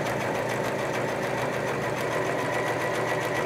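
A sewing machine runs steadily during free motion quilting of a maze design, its rapid needle stitching forming an even, continuous mechanical whir at close range.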